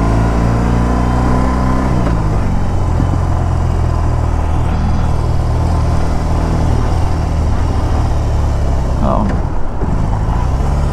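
A 2022 BMW R 18 Transcontinental motorcycle engine rumbles loud and close while riding, a deep steady drone with a brief dip in pitch midway as the rider downshifts, with no talk.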